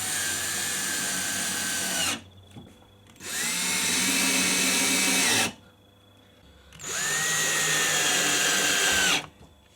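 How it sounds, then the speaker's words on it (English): A power drill drives into wood, whining in three bursts of about two to three seconds each, separated by short pauses, close and loud. "now all I've got to do is drill this to the bit of bloody wood"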